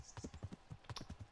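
Quick clip-clopping hoofbeats, about a dozen evenly spaced knocks, fairly faint, of a horse trotting in the video game Kingdom Come: Deliverance.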